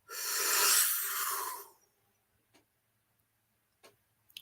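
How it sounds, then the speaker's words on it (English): A single deep inhaled breath taken during a guided breathing exercise, a loud airy rush lasting about a second and a half, followed by near silence with a few faint soft clicks. "So let's take our first breath in."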